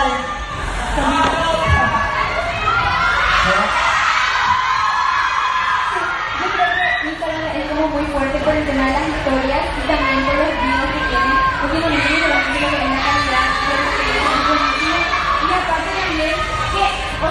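A crowd cheers and shouts continuously at a Paraguay stop of a media fan festival, a dense wall of voices with yelling and screams rising and falling, loud and close throughout.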